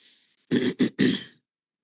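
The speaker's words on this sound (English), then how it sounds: "excuse me if I'm clearing my throat every now and then" A person clears their throat three times in quick succession, close and fairly loud, with silence around it.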